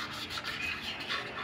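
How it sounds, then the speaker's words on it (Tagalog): Sandpaper rubs back and forth over a rusted brake caliper, a quiet, close, continuous scratchy rasping with no talking. "So gamit lang tayo ng liha"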